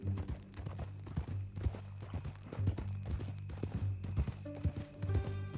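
A horse's hooves clip-clop at a steady walking pace in the video game Red Dead Redemption 2 over a low continuous hum, with faint melodic tones coming in near the end.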